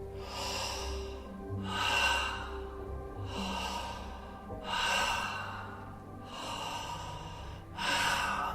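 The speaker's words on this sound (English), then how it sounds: "Heart breath sounds like" Rhythmic heart breath breathing exercise: six deep, breathy inhale-exhale cycles repeat at an even pace, close and fairly soft, with no talking.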